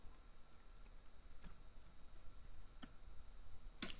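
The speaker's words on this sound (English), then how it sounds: "I'm just typing so that we get the full result." Computer keyboard being typed on while searching for Dyson vacuums online, giving faint scattered clicks with a few sharper keystrokes, quiet and close with no one speaking.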